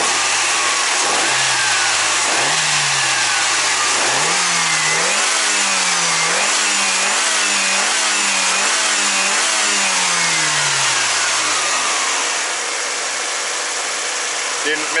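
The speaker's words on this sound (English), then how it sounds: "Still sounds pretty smooth. Give her a rev." An east-west mounted car engine is revved repeatedly in a steady series of rising and falling pulls, loud and close, before settling back to a smooth idle.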